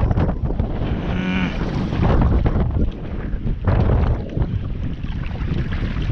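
Strong wind blowing over open water on a fishing outing, a loud continuous roar and buffeting of gusts against the microphone, with no voices.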